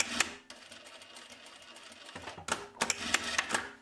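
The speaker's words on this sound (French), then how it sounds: "Donc je vais coudre 2 cm au niveau de l'épaule pour qu'elle se" A sewing machine stitches the shoulder of a vintage Burda coat in short bursts: a quick run, a long pause with faint room noise, then several clicking stop-start runs, near and fairly loud.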